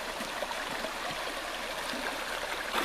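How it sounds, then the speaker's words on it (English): Creek water flows in a steady, broadband rush close by, continuous and alone, at a stream where sassafras root is being scrubbed clean. "we're down here at the creek"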